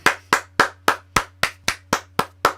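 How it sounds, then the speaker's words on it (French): A single pair of hands clapping slowly and evenly, about ten sharp close claps in a steady rhythm over a low constant hum, with no talking. "Alors là, je ne peux qu'applaudir."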